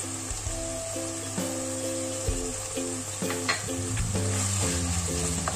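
Tomato paste and spices fry together with chopped tomatoes in a pan, giving a steady close sizzle with occasional stirring scrapes.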